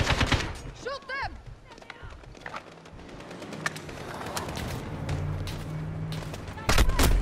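Gunfire in the video game Modern Warfare 2019, scattered sharp shots and bursts amid game noise, with a final loud volley near the end and voices talking underneath.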